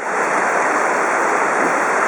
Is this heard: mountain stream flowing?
yes